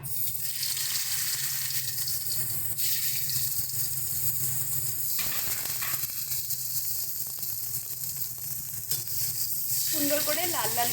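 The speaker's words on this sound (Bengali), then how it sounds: "এবারে আমরা আলুগুলো ভেজে নেব।" Potatoes frying in oil in a pan for a koi fish curry, a steady broadband sizzle that continues throughout, with a brief shift midway and some faint background noise, no voices.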